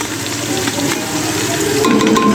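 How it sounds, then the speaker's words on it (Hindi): Loud, close sizzling and crackling of ground green chilies, whole cumin and spices frying in hot oil, with occasional stirring scrapes in the pan. "इसको मसाले के साथ अच्छी तरह से भून लेंगे।"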